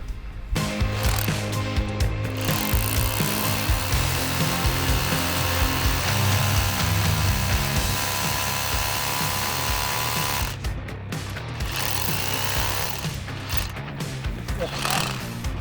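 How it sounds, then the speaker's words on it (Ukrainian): A RONIX 8910K cordless rotary hammer bores into granite with a loud, continuous grinding hammer-drill roar that stops briefly near the end and starts again, and someone talks over it. "скільки тут граніту йде, ну перфораторові важко"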